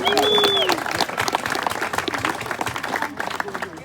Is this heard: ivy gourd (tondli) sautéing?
no